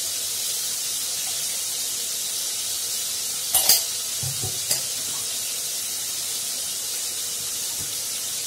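Ginger paste sizzles faintly in a pan, a soft steady frying hiss with a brief louder burst of spatter and a couple of light clinks midway, no voices.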